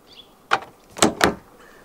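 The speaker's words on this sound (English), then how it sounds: "To lock, just tap it." A 2020 Ford Mustang GT Premium Convertible locking after a tap on the door handle: three short, close mechanical clunks from the door lock, one alone and then a quick pair, over quiet background.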